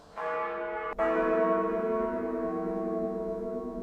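A large church bell is struck twice in quick succession, leaving a loud, rich ringing tone that hums and slowly fades over several seconds, with no voices.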